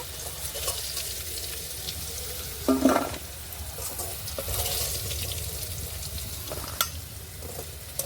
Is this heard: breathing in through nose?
no